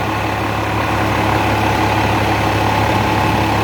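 Cummins diesel engine idling, a steady loud low rumble with a constant droning tone, close up and unbroken throughout.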